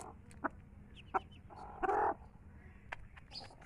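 Chickens eating from a feeding pot give a few short, soft clucks and one louder squawk against a quiet background, with scattered clicks of pecking between them.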